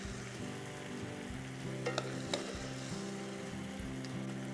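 Shrimp sizzle and blacken in a hot skillet, a steady close frying crackle with a couple of faint clicks, no voices.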